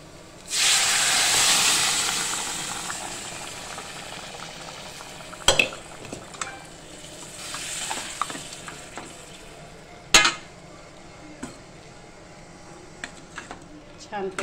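Dal tipped into hot spices frying in a pan for Sindhi dal pakwan, a loud hissing sizzle with stirring and a few sharp clanks of a spoon against the pan, which then settles into a softer steady frying.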